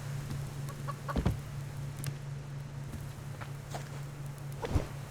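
A chicken clucks faintly in the survival game Subsistence, giving a few scattered short clucks beside soft footsteps over a steady low hum.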